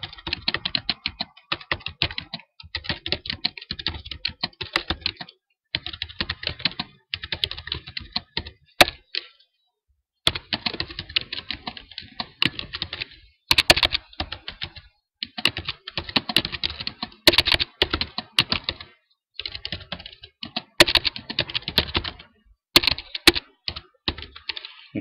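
Typing on a computer keyboard, close and clear, in quick bursts of keystrokes separated by short pauses throughout, with no voices.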